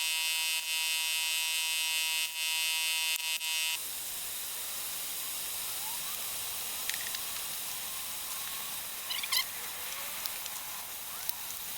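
Compressed air hisses into a brake caliper to force its piston out, a steady loud blast with a high tonal whine that drops after a few seconds to a softer, sustained broadband hiss with brief sputters near the end.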